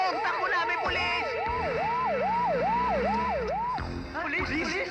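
A police siren wails in a rapid rising-and-falling pattern, loud and close in a Filipino comedy film, cycling about eight times before breaking off into a clatter of other noise.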